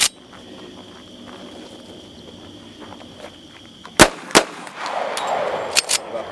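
A .45 pistol fires during a night shoot, with a few sharp, loud shots spaced irregularly, including two close together, over faint background hum and a noisier stretch near the end.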